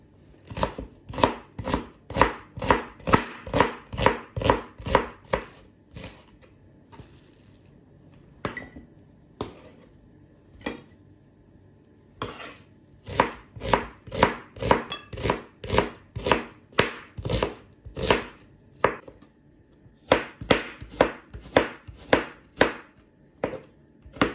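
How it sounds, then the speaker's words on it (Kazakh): Garlic being chopped with a knife on a board for a Kazakh fried meat dish, a long run of quick, close, sharp chopping taps in steady bursts with a few brief pauses, alone with no talk. "Енді сарымсағымызды турап аламыз."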